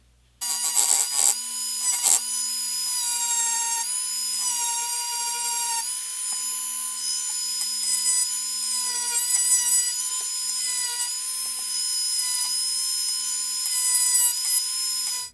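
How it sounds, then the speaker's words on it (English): A Dremel rotary tool whines at a high steady pitch while working a Glock 19 Gen 4 polymer frame, with small tonal shifts as it bites into the material, loud and close with no talk. "be sure that your actual Dremel tool, or whatever tool you're using, is directly perpendicular to the actual frame itself"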